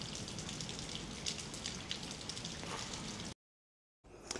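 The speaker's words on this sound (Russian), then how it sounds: "Жалко, что дождь идет." Steady rain falling, a soft continuous hiss with scattered drip taps, fairly quiet, briefly cutting to silence near the end before resuming.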